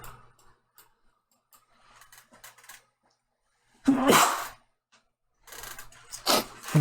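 A person sneezes close to the microphone: one loud, sharp burst midway, then a second forceful burst near the end, with quiet stretches before them.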